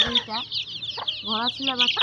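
Naked-neck chicks and chickens cluck close by in a small space, a series of short repeated calls over a faint steady hum.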